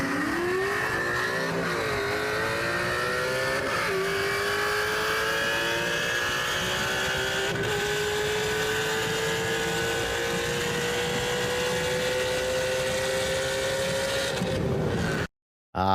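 A modular V8 motor revs hard toward 8,000 RPM, its loud, sustained engine tone climbing steadily for many seconds before it cuts off abruptly near the end.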